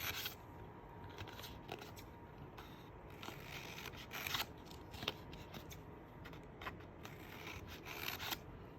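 Scissors snip repeatedly through paper while cutting DIY paper palm leaves, a run of close, crisp cuts and rustles with no talk.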